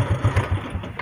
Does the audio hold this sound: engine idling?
yes